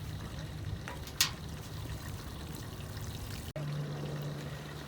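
Water poured from a container onto a newly planted seedling in a pot, a soft steady trickle running low and close throughout, with a brief splash partway and a louder gush near the end.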